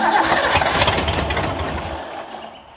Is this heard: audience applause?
no